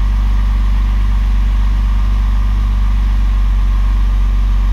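Car engine idling shortly after a cold start, a steady low hum with a constant rumble and faint whine, close and unbroken throughout.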